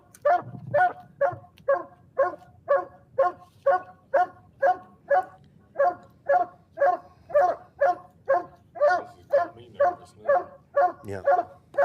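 A hunting dog at a coonhound tournament bays steadily at a tree, a close, loud run of about thirty evenly spaced barks, with a brief voice or whine near the start and end.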